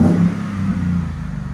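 A 2014 Ford F-150 with a 5.0L V8 and a 22-inch Magnaflow muffler gives a short, loud, deep rev, then settles into a throaty rumble, heard up close.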